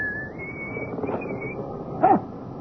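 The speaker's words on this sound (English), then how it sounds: "He's coming now, whistling in the dark." In a radio drama, a man whistles a thin wavering tune, faint and somewhat distant, followed by a short sharp yelp-like cry near the end.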